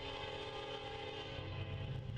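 Norfolk Southern NS 338, a southbound manifest freight train, approaches a grade crossing with a steady, dense rumble and sustained tonal horn or engine drone throughout.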